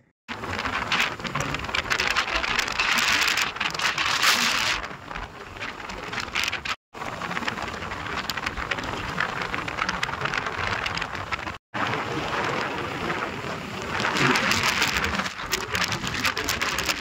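Heavy downpour in Saswad, a steady dense hiss of rain falling on surfaces, loud and continuous throughout with two brief breaks, no voices.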